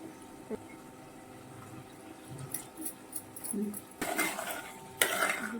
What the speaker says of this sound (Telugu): పెసరపప్పు బీరకాయలు కలిసేలాగా బాగా కలుపుకోవాలి